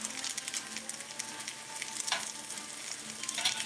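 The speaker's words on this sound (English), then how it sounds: "Keep frying up this bacon." Bacon sizzles steadily on a hot surface while smash burgers are made, a dense close crackle with occasional sharper pops and faint scraping as the strips are moved around.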